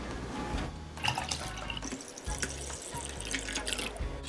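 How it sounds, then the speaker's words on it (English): One cup of cold water being poured into a cake mixture, with a close, splashing and trickling stream that runs unevenly for a few seconds. "Now let's add 1 cup of cold water."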